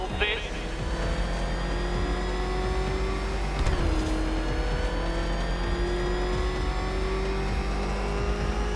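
Batmobile engine in Batman Arkham Knight roaring steadily at speed, a sustained drone with a rising pitch and a brief burst near the middle, while a voice talks over it.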